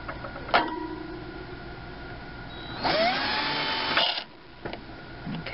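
A small power drill bores a pilot hole into a bathroom wall for mounting a shelving unit inside an RV, giving a short high whine after a brief blip of the motor, heard close up and alone.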